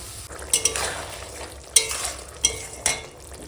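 Small fish curry with ground spices cooking in a pan, a steady soft sizzle under a few sharp clinks of a spoon against the pot, close and moderately quiet, with no talking.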